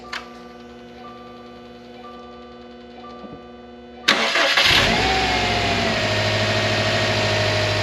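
A rebuilt Subaru WRX STI engine with direct port nitrous starts for the first time: a quiet hum gives way to a sudden loud crank and catch midway, then the engine runs on at a steady, rough idle with no talking.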